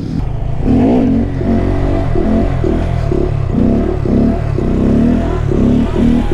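A Honda Grom motorcycle engine revving loud and close during wheelies, rising and falling in repeated pulses with a rough, throaty drone and no talking.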